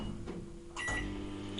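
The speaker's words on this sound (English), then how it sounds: "So we pop this in the microwave." A microwave oven runs while heating an edible fabric mixture, giving a steady low hum with a brief click and a shift in tone partway through, close and fairly quiet.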